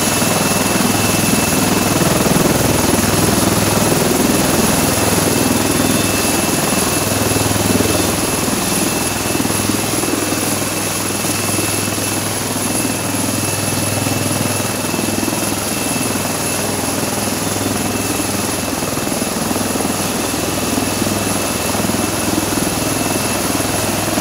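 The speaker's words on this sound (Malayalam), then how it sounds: "പോത്തുകല്ല് തലപ്പാലിയിലാണ് ബോക്സ് കിറ്റുകളുമായി എത്തിയ ഹെലികോപ്റ്റർ ഇറക്കിയത്" A central armed forces military helicopter carrying relief supply kits arrives and lands at Pothukallu Thalappali, its loud, close rotor and engine drone holding steady and continuous throughout, with no voices.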